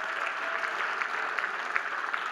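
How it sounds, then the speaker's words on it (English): Audience at an awards gala applauding in a steady wash of clapping that fills the room, even and sustained for a couple of seconds with no talk rising above it. "Round of applause for yourselves."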